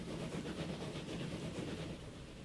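A train rolls along in the transport simulation game Transport Fever, giving a steady, continuous rumble of wheels and carriages that holds at an even level throughout with no talking.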